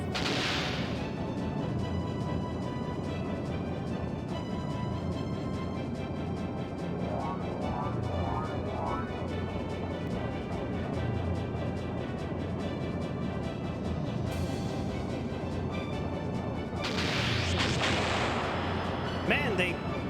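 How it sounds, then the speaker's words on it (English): Torpedoes explode during a Skies of Arcadia Legends airship battle, heavy booming blasts over a steady roar of game combat noise, with a loud burst near the end. "Those are torpedoes."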